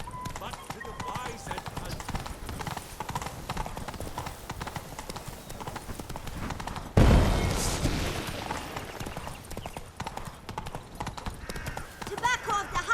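Roach the horse gallops in The Witcher 3, a steady rapid clip-clop of hooves running throughout, with a loud rumbling burst midway and faint voices in the background.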